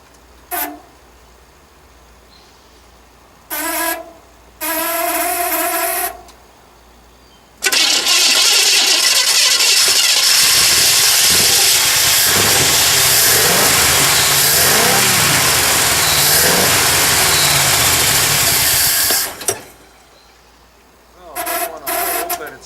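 An old Chevy engine cranks in short bursts and then catches, settling into a loud, steady run close by that lasts for several seconds before it stops, followed by a few brief cranks again.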